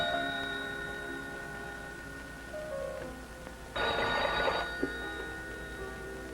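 A telephone ringing in a quiet room, a steady electronic ring tone repeating at moderate loudness with a brief louder burst of ringing near the end, no voices.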